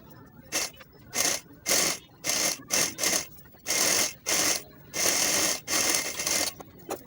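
A sewing machine stitches trousers in short, loud bursts of rapid whirring, separated by brief pauses, close up with no voices.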